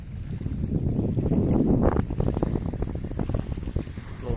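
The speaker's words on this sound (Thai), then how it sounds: "เป็นอากาศยามเย็นครับผม ลมพัดเย็นมากครับ" Cool evening wind blowing across a reservoir, buffeting the microphone in low, gusty rumbles that swell and ease, fairly loud and with no voices.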